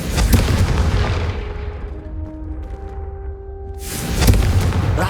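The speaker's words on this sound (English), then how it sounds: "Have a go at those candelabras. Both have their uses, but I think you'll find that a Confringo cast travels a bit." A Confringo fire spell in Hogwarts Legacy blasts candelabras, a loud booming burst at the start fading into a ringing tail with sustained tones, then a second heavy boom near the end.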